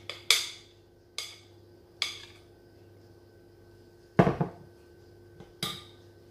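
A greased metal baking tin for a cabbage pie being handled, giving five sharp clanks and knocks spaced a second or so apart, close by and otherwise quiet.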